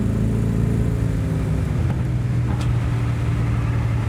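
A 1969 Buick Skylark's engine rumbles steadily from inside the moving car, a continuous low drone with strong, even loudness and no talk over it.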